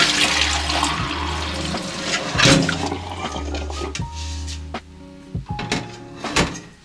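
Running water from a tap pours steadily in a kitchen while a beef tongue is rinsed under it, with the flow splashing and shifting as the meat is handled, and small knocks and clatters in between.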